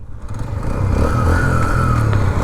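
Yamaha FZ motorcycle cruising along a good road toward Payra seaport in Bangladesh, a close, steady engine drone with a low throb and rising rev, mixed with wind rush and no talk.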